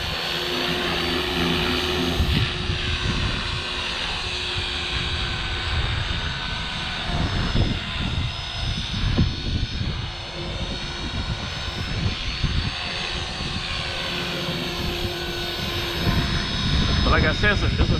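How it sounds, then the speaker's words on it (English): A Walkera 450V model helicopter whines and buzzes continuously, its pitch rising and falling as it flies nearby in gusty wind, with a person talking over it. "this is a good flying helicopter"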